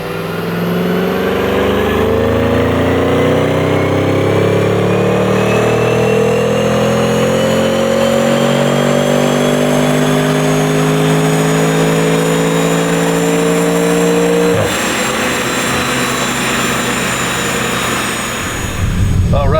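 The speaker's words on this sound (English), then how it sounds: "We are now driving the RS6 with the new integrated engineering carbon fiber intake." A 2021 Audi RS6 Avant engine with a carbon fiber intake revs hard and climbs steadily in pitch through the gears, loud and close, then drops sharply as the throttle lifts near the end.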